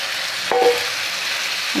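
Broiler chicken pieces fry with onions in a pan, giving a steady, close sizzle throughout, with a brief stirring clatter about a third of the way in.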